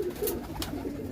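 Breeder pigeons with rounded feathers coo softly and steadily for just over a second, a low murmuring call close by with no voices over it.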